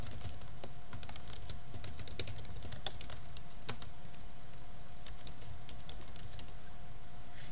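Steady typing on a computer keyboard while entering a username and password, a continuous run of light, close key clicks with no talking over it.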